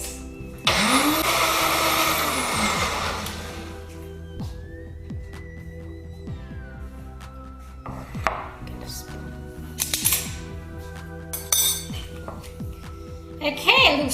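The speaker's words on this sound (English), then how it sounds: "So I'm just going to blend it now to make it a paste." A kitchen blender grinds spices, onions and garlic into a paste, a loud whirring burst that fades into quieter clinks and handling of dishes, then short further pulses near the end.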